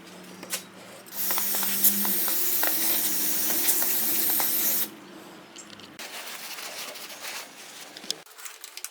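Brake cleaner hisses from an aerosol can in one sustained close burst of about four seconds onto a smoking lawn mower engine near its breather cover, followed by faint clicks and handling noises.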